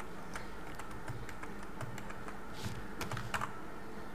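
Coding-class instructor typing HTML and CSS on a computer keyboard, a quick, uneven stream of light key clicks, close but soft, with no talk.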